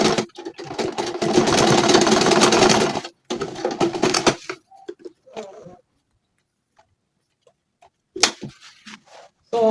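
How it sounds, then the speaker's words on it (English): A sewing machine stitches the second side of a stretchy cap in a loud continuous run, stops, restarts briefly, then falls quiet before a few final stitches, close by with no talking. "Now I'll be sewing the other side. I'll be sewing the second side."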